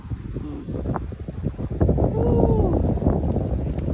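Steady wind buffets the microphone outdoors with a rough low rumble, while voices talk faintly underneath.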